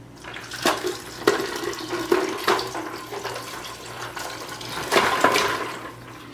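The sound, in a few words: ice water poured into cold brew coffee dripper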